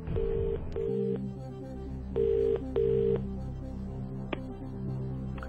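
A telephone call is placed on a game show: a series of distinct dialing tone beeps in uneven rhythm, followed by a steady line hum, clear and close with no talk.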